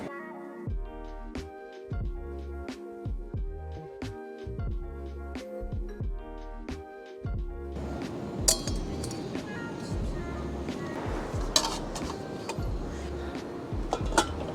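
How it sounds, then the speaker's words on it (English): Metal clinks and clatters of a Trangia camping stove being assembled with its gas burner, a run of bright rattling taps and ringing knocks, close up, growing denser and noisier in the second half. "Now to set the Trangia up, I think, using the gas burner."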